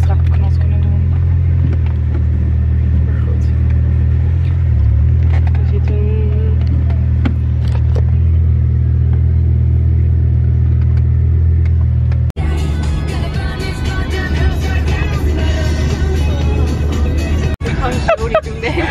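Motor of a sailboat with a mast, off St. Tropez, running as a steady loud low rumble throughout, with people talking over it and a rougher, busier wash of engine and water noise in the later part.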